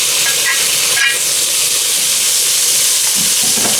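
Blanched string beans sizzle loudly in a pan with garlic, a dense steady hiss of frying that stays strong and continuous throughout, with no talking.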